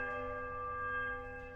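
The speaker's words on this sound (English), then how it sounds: "You heave at the bell as it swings back in the other direction." A church bell in a ruined hall in the Pillars of Eternity game rings with a sustained, steady metallic hum of many overtones, loud and alone with no talking.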